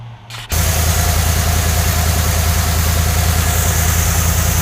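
A 1968 Chevrolet Impala engine starts abruptly and settles into a loud, steady, close idle with a constant low rumble and a faint ticking tap running through it; no talking.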